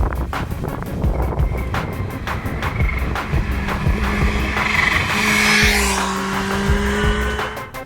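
A supercharged Kawasaki Ninja H2 sport motorcycle screams at high revs and shifts through gears close by, with wind buffeting and rapid rhythmic pulses as it accelerates hard.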